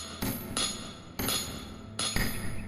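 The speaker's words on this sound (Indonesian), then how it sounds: "suara denting palu yang tak pernah berhenti" In a village blacksmith's forge, a hammer strikes metal in sharp ringing clinks, with three or four evenly spaced heavy blows that each sustain a bright metallic ring.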